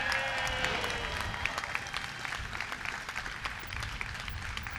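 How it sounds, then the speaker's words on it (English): A crowd at a bridge opening ceremony applauds steadily outdoors, a dense wash of clapping at moderate distance with a few sharper claps and cheers standing out. "Let's give them a round of applause."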